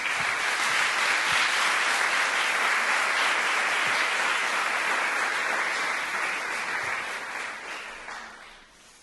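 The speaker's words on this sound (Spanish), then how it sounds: "O sea que dale un fuerte aplauso porque es un orgullo tenerte aquí" An audience at a medical lecture on anti-inflammatory drugs and pain treatment applauds the doctor, with sustained dense clapping from many hands that holds steady and then tapers off near the end.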